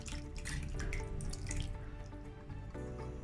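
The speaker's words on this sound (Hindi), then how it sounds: "आप ऐसे धीरे धीरे करके पानी डालते जाइए और वॉश करते जाइए" Water trickles and splashes steadily as it is poured slowly over fresh chhena held in a mesh strainer, a continuous close wash with no pauses.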